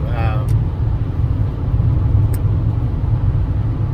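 A car driving on a road, heard as a steady, loud low rumble of engine and road noise throughout, with a couple of brief faint clicks over it.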